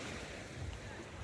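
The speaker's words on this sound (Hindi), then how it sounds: "इस पानी की वेव वाली आवाज़ को सुनने के लिए तरस देखी है." Ocean surf rolls in at Tsilivi Beach on Zakynthos, Greece, a steady broadband wash with wind buffeting the microphone, heard alone without talk.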